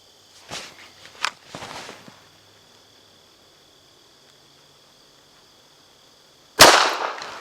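A single sharp rifle shot from an RXM fitted with an Osight K sight cracks loudly near the end at an outdoor range, after a few soft handling clicks and rustles, with a faint insect-like hum throughout.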